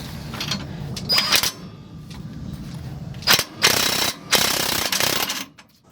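Impact wrench fastening a bracket from a 4/6 lowering kit on a 2016 Chevy Silverado: loud, close rattling bursts of hammering, a couple of short ones followed by longer sustained runs with brief pauses between, ending in quiet.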